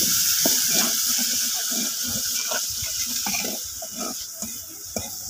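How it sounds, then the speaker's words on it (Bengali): Chopped onions sizzle in hot oil in a wok over a clay stove, a steady close hiss with crackling pops that gradually settles, with no talk. "এই যে তেলের মধ্যে পেঁয়াজগুলো দিয়ে দিলাম।"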